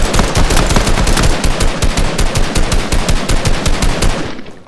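Rapid, sustained automatic gunfire from turrets blasting at a UFO in an alien-themed video game, loud and dense with a fast regular rhythm that holds for about four seconds before cutting off, with no voices.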